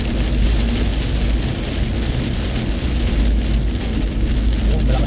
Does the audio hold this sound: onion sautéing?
no